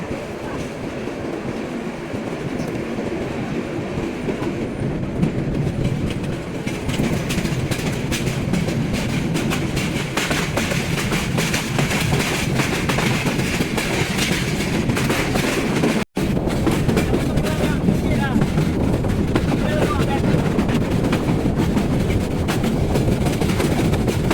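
The Parabat Express passenger train runs on the Tongi–Akhaura line in Bangladesh, giving a loud, steady rumble with rhythmic clickety-clack of wheels over rail joints, heard continuously from on board with no talking.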